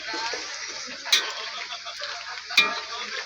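Ginataang papaya, papaya simmering in coconut milk, bubbles and spits in the pan with a steady soft sizzle, broken by two sharp splattering pops a little over a second apart.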